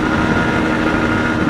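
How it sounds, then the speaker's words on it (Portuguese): A low-displacement motorcycle engine held in third gear gives a steady, loud, close drone with dense low rumble, sustained without letup and with no voices over it. "Estou em uma moto de baixa cilindrada, eu não posso perder o torque do motor"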